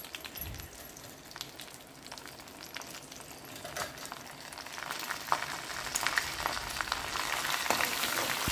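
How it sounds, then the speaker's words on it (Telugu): Curry leaves and cut dried red chillies crackle in hot oil with mustard seeds and cumin as a tempering for banana flower curry, a steady close sizzle with scattered pops that grows louder toward the end. "కడిగి పెట్టుకున్న కరివేపాకు, అదేవిధంగా ఎండుమిర్చి కూడా కట్ చేసి వేసుకోవాలండి తాళింపుకి."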